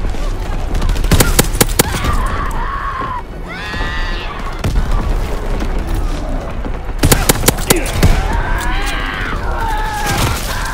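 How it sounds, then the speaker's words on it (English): Incoming enemy artillery in Call of Duty WWII bursts in heavy booms and crashing volleys, loud and close, with shouting voices and gunfire mixed between the blasts. "Incoming enemy artillery."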